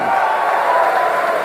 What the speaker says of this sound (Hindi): जरा जोर से ताली बजाइए।